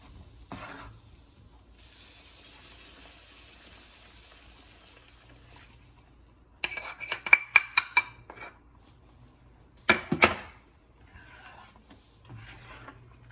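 A spoon works through paneer butter masala gravy in a metal pan, giving faint scraping and a few quick clusters of sharp clinks against the pan's side, with quiet gaps between.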